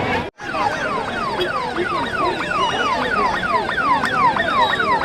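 An ambulance siren wails in rapid, repeating up-and-down sweeps, loud and close, preceded by a brief cut in sound.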